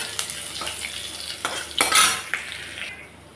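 Dried red chillies and crushed garlic hit hot tempering oil, a short burst of sizzling with a few metallic stirring clinks and one louder flare of spitting in the middle; no one talks.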